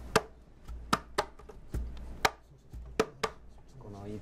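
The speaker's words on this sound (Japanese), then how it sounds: "このイプヘケの音っていいですよね。" An ipu heke, a Hawaiian double gourd drum, is struck in a slow, uneven rhythm of sharp, close hollow thumps, about nine beats, with a voice briefly heard at the end.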